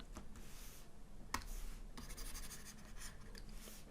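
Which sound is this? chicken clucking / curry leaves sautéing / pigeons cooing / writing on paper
writing on paper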